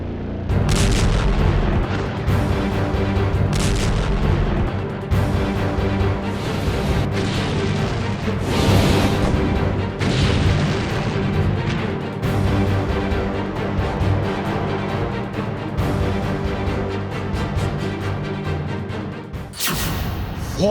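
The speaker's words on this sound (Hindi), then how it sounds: "इजराइल पर पहली मिसाइल लॉन्च।" War footage of a missile launch and explosions, with dense continuous booms and gunfire-like blasts filling about twenty seconds, loud throughout and ending in a sharp burst.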